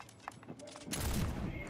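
A flint pistol fired in Fortnite booms loud and close partway through, its blast and rumble lingering to the end after a few faint earlier pops.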